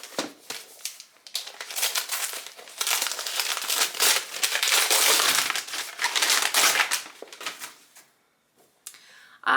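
Wrapping paper crinkled and torn off a book, loud close rustling and crushing in sustained bursts for several seconds before falling quiet.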